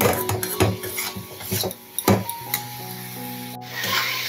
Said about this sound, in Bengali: গুঁড়ো মশলাগুলোকে ভালো করে মিশিয়ে নেব